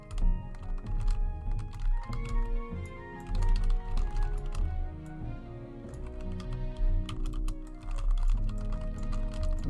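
Steady typing on a computer keyboard, a dense run of close key clicks over a bed of background game music and hum, with no talking.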